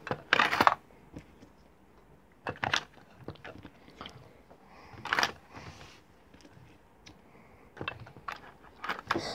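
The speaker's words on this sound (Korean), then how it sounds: "다 안 들어갔으면 나중에 들어가는 동전으로 이런 식으로 넣어주면 됩니다" Coins drop into a small Lego piggy bank in sparse bursts of clinking and rattling, several drops spread out with quiet pauses between, close and fairly faint, without talk.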